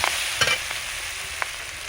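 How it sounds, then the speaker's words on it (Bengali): Cumin, mustard and melon seed pastes fry in a pan for Bengali jackfruit seed and greens curry, giving a steady soft sizzle with a couple of brief scraping stirs, close and alone. "এর মধ্যে দিয়ে দেবো জিরে বাটা, সরষে বাটা, চালমগজ বাটা, সবগুলো একটু সঙ্গে ভালো করে ভেজে নেব।"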